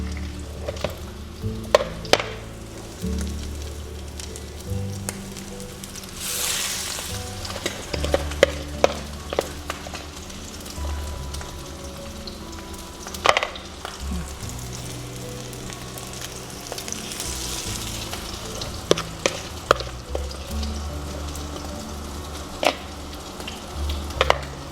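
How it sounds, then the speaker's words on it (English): Salmon patties frying in a skillet, a loud steady sizzle with scattered clicks and scrapes of handling in the pan, no talking. "Put it in the skillet."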